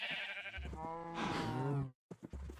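Sheep bleating in the Minecraft video game, several wavering bleats close and clear, with a short silent gap before more.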